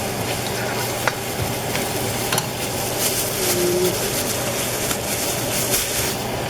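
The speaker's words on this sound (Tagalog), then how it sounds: "Nagigisa lang simbawang sa sibuyas." Onions sauté in a pan for an oxtail kare-kare stew, a dense, steady sizzle with faint stirring clicks, close and continuous with no voices.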